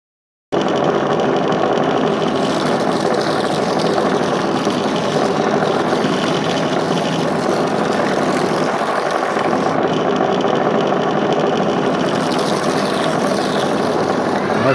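A homemade manual dowel-making machine, of the kind used for birdcage dowels and arrow shafts, runs with a steady, loud mechanical whir that holds evenly for the whole stretch and carries no talk.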